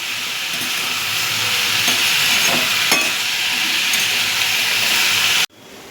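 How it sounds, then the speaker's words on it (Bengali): Food with salt and turmeric stirred in a hot pan makes a loud, dense, hissing sizzle with a few light scrapes, close up, which cuts off abruptly near the end. "সবগুলো একসাথে নাড়িয়ে এবার ঢেকে দেবো"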